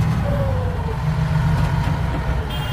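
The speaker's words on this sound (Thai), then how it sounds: "เสียงนี่เหมือนรถจะแรงมากเลยเนาะ" A Victor 344 ten-wheeler truck engine running hard, a steady loud low rumble and drone close by with a slight rise in pitch, and no talking.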